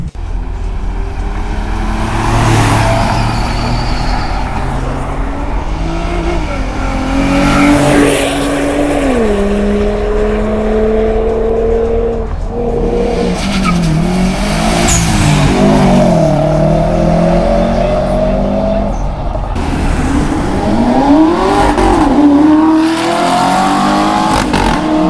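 First-generation Audi R8 V8 revving loudly and close at a street supercar and JDM meet, rising and falling repeatedly over a steady background rumble of other engines.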